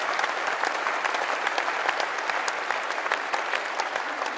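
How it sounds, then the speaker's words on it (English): An audience applauds steadily, a dense wash of clapping with no one speaking, holding at an even level throughout. "That's worth a round of applause."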